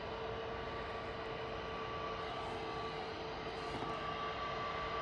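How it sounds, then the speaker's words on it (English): An EasyJet airliner descends on approach to land at Manchester Airport, a steady, fairly distant engine roar with a faint whine that holds level throughout, heard on its own. "EasyJet's coming down to say hello to us."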